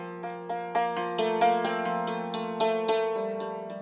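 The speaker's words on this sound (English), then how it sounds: "It's the sound of a cymbali." Struck strings ring out in a quick, rhythmic run of bright hammered notes on a dulcimer, each attack shimmering and sustaining into the next.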